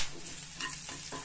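Green chillies and kasuri methi drop into hot oil for tempering a rajma masala, giving a soft crackling sizzle with a few brief bursts of stirring, fairly quiet and close.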